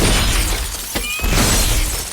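Heads of celery snapped as Foley for a superhero film, standing in for kneecaps shattering: loud, close cracking and splintering crunches, with a brief pause between two bursts.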